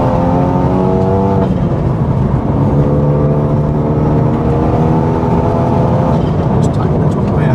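BMW E46 M3 engine pulling hard up through the gears, a loud continuous rising drone that climbs in pitch, drops at each shift, then climbs again, heard from inside the car with voices talking over it.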